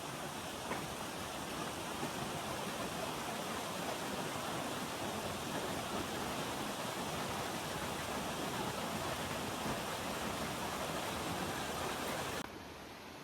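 A mountain river on the Valley of Flowers trek rushes in a dense, steady roar of white water. The sound is loud and close, with no voices, and the level drops slightly just before the end.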